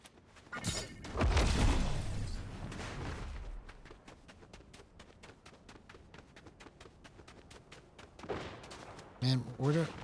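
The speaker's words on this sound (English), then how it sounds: "where am I hearing these gunshots from?" Gunfire in a shooter video game: a loud cluster of shots early on, then a long run of quieter, evenly spaced rapid cracks and a few sharp bursts near the end.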